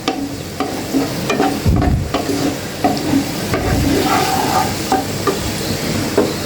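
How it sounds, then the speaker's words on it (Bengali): Sliced onions frying lightly in a pan for a Sylheti akhni pilau, giving a steady close sizzle broken by repeated clinks and scrapes of stirring, with no talking. "আমি হালকা আছে পেঁয়াজটাকে ভেজে নিচ্ছি কিন্তু এটাকে আমি মোটেও বেরেস্তা করব না"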